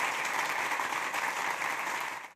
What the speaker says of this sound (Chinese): 掌声有请陈浩老师